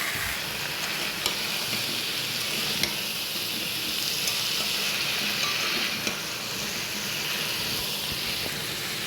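Ground cumin paste lightly frying in a pan, a steady dense sizzle and hiss that runs throughout with faint stirring ticks, close and continuous.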